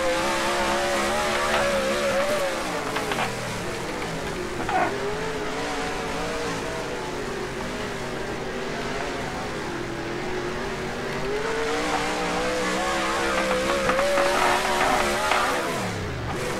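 A race car engine in NASCAR Racing 2003 holds full throttle on a dirt track, with a steady, loud, continuous drone that rises and falls in pitch through the corners for the whole stretch.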